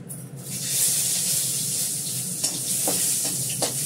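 Three dried red chillies and a bay leaf sizzle in hot oil, a steady close hiss with a few small pops and crackles, and no talking.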